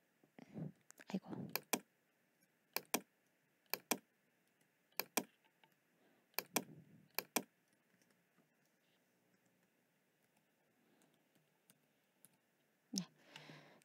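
Text being typed on a computer keyboard during an illustration software exercise: scattered bursts of sharp, close key clicks, some in quick clusters, separated by quiet gaps.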